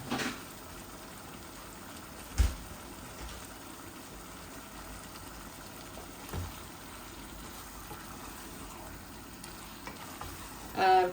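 Chicken fries with tomato puree and no added water, being bhuna-stirred in a pan: a steady low sizzle runs throughout, with a few soft scraping thuds from the stirring.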